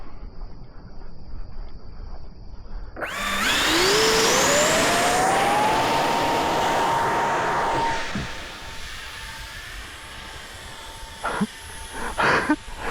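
RC model NGAD jet, flown with no control surfaces, powers up outdoors with a rising whine that settles into a loud steady roar for several seconds, then fades as it moves away, with short bumps near the end.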